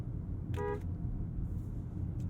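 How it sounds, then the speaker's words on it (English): A 2022 Honda Accord Sport 2.0T gives one short, faint honk of its car horn, a brief tone set over steady low road and wind rumble. "we're clear for the world famous horn test"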